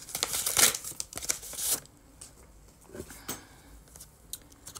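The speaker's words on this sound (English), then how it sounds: "Let me open up the card before I open up the book." Paper crinkling and tearing as a Christmas card is opened from a book-mail package, a close burst of rustles and rips, then softer scattered crinkles.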